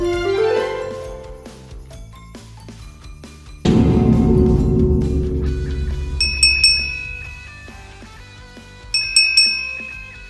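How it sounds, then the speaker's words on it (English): Several small bells ring out one after another, a bright clanging onset followed by clear high dings that strike twice more and fade, close and loud with no talking. "Let's listen up to the next 3 bells."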